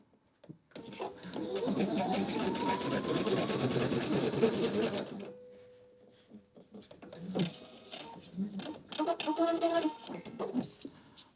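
A sewing machine runs a steady zigzag stitch along a fabric edge for about four seconds, loud and close, then stops. Quieter handling noises and brief talk follow.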